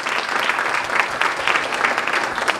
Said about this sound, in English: Please a big applause for her as I invite her on the stage.